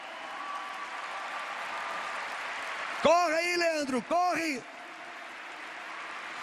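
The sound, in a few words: crowd applauding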